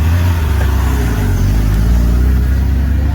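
A car engine runs loud and close, a steady low rumble throughout with no clear rise and fall in the revs.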